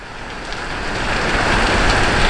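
Steady rain pours down in a broad, even hiss of drops on a surface, building slightly louder over a couple of seconds with no voices present.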